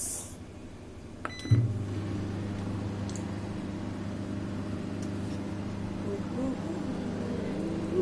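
Microwave oven heating a filled dish: a click and short beep, then a steady low hum that runs continuously at moderate volume.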